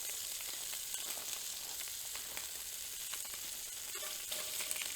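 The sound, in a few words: turkey sausage frying in a pan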